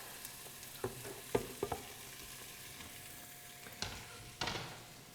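Faint sizzle of onions frying in oil that is too hot, with a few sharp crackles and pops scattered through an otherwise quiet background.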